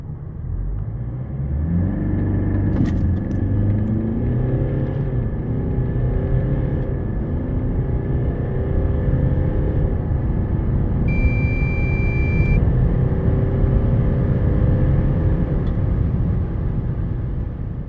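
A Range Rover Evoque D200 with a 2.0 four-cylinder diesel accelerates hard toward 100 km/h, heard from inside as a steady, loud engine drone and road rumble, with a brief electronic beep partway through and no speech.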